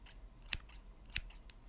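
A pair of scissors opens and closes in two sharp, crisp snips about half a second apart, close and quiet, with a softer snip trailing near the end.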